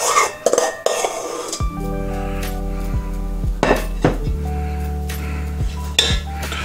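A spatula scrapes and folds orange-blossom macaron batter in a bowl, with clinks and knocks against the bowl's side and a few ringing taps as the mixing goes on, close and fairly loud.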